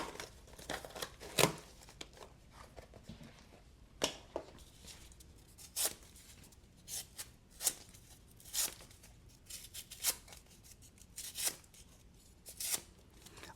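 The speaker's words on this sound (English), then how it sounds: "As a matter of fact, do a little cardboard cutting." A very thin knife slicing through cardboard gives off a run of short, sharp scraping and tearing strokes spaced irregularly across the stretch, close and moderately loud, with no voices.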